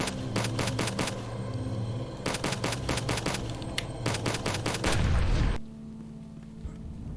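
Enemies firing projectiles in the shooter game HROT, bursts of rapid rattling shots in quick clusters with a heavy boom near the end, then an abrupt drop to quieter ambience.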